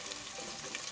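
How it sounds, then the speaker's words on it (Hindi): Finely sliced onion frying in oil until golden brown and crispy for a Kashmiri milk mutton curry, a brief faint, steady sizzle. "we are going to fry this until it's nice and golden brown and crispy."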